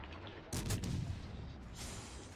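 Ship guns firing in the naval video game World of Warships Legends, a couple of booming shots and a burst of gunfire against a steady background rumble, moderately loud.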